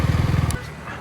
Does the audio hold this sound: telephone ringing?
no